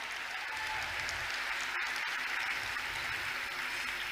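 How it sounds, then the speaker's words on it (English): An audience claps steadily and warmly at the WCIT 2019 closing ceremony, a dense wash of applause holding throughout without a break. "One more round of applause for Women in Tech."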